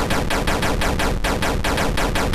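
Rapid automatic gunfire from a weapon in an indie video game, a steady loud burst of evenly spaced shots with no pause throughout.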